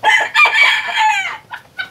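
A hen and a rooster, one of Mexican breed, cluck and crow loudly and close by in a series of squawking, crowing bursts with short pauses, without talk.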